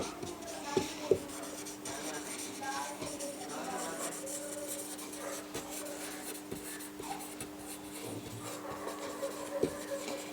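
A pen scratches out handwritten notes in faint, irregular strokes over a low background hum, close and quiet throughout.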